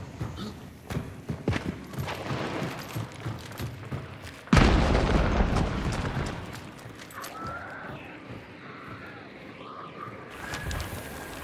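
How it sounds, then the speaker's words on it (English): A red barrel blows up in Hunt: Showdown, one sudden loud boom partway through that trails off into rumble, with clattering footsteps and game noise before it and faint tonal sounds afterward. "Let's explode red barrel."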